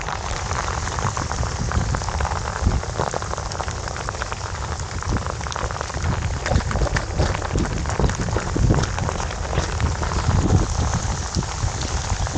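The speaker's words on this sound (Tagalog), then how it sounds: "Lumakas na ang ulan." Steady, dense rain pours down without a break at a fishing spot in Baseco, a broad continuous hiss with drops spattering on surfaces, loud and close throughout.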